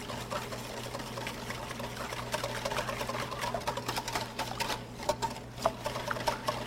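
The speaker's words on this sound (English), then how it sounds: "you're going to want to whisk these a little bit before you add them to your pumpkin mixture" Eggs being whisked in a bowl for a pumpkin pie filling, a steady fast rattling and tapping of a whisk against the bowl, continuous and close, with no talking.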